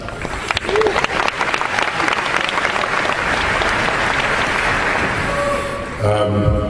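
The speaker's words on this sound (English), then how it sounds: "by all means restrain your applause, as I was rather alarmed to see you just did" Loud, sustained applause from a large audience at a 2009 debate fills the room for about six seconds before cutting off as a speaker starts.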